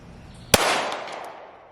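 One loud pistol shot at an outdoor range, fired with a red dot sighted handgun at a target about 100 yards away, a sharp crack followed by a long rolling echo.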